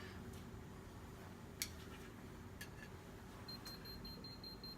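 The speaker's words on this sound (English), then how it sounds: "is headed towards 1700 volts per meter at the receiver and beeping a warning tone" A field strength meter placed at a receiver during a Tesla coil demonstration sounds a series of short, high electronic beeps near the end, over a low steady hum and faint background noise.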